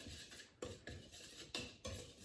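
A whisk scraping and rattling through dry ingredients including salt and cinnamon in a bowl while making apple butter pancakes, rhythmic close strokes repeating about every half second, quiet and without talk.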